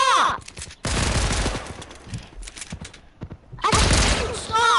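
Bursts of automatic gunfire in the video game Fortnite, loud rapid volleys at the start and in a long stretch in the middle, with scattered single shots between and a final heavy burst near the end.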